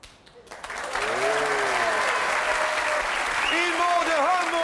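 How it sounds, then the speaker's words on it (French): Studio audience on the French TV game show Attention à la marche breaks into loud, sustained applause that swells within the first second, while a host talks over it. "il faudrait l'applaudir très très vite parce que c'est fini très rapide."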